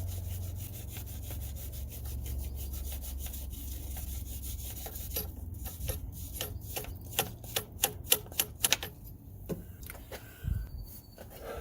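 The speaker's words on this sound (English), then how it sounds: "we're going to use a brass scrub or a brass brush just to give it a good scrub" A brass brush scrubs the surface of an aluminum cylinder head, starting as a faint rubbing under a low hum, then turning into quick, rhythmic scratchy strokes that grow louder and sharper near the end.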